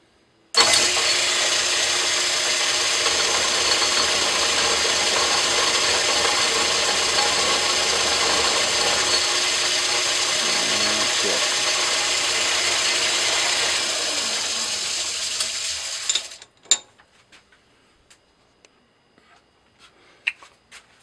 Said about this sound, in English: got the lathe in back here, slow it down a whole lot, and put a little lubrication on here, and gonna ream this